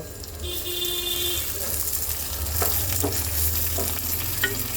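Grated ginger and tomato stirred in hot oil in a pan while cooking a spicy pabda fish curry, a steady close sizzle with scraping spoon strokes, faint background noise beneath.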